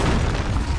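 A deep, heavy boom from the Confringo fire spell in Hogwarts Legacy, a short loud blast filling the brief moment.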